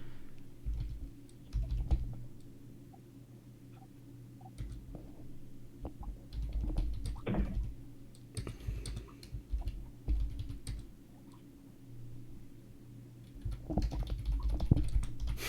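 Typing on a computer keyboard connected to an Apple Lisa, heard as irregular bursts of clattering keystrokes with quiet pauses between them, fairly close and alone without talk.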